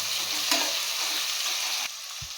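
Onions frying in oil for tomato rice bath, a steady bright sizzle with scraping stirs of a spatula in the pan, close and continuous, briefly quieter near the end, no talk.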